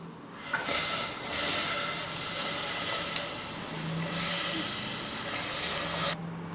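Steady hissing and bubbling of jaggery syrup simmering in a pot on the stove, a broad constant wash of noise with faint occasional clinks.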